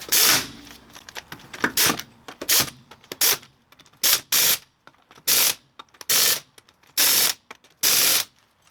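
A ratchet tightens the wheel back onto a 1998 Chrysler Cirrus after ball joint and control arm work. Close, loud bursts of rapid clicking come in about a dozen separate strokes with short pauses between them.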